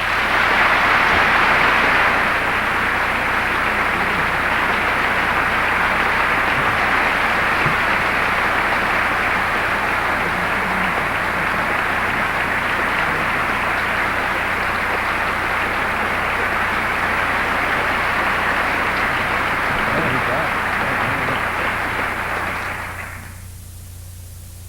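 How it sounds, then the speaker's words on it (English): An audience applauding after a speaker's farewell, a broad continuous wash of clapping that holds steady for over twenty seconds and then cuts off abruptly near the end. "We need to can that applause"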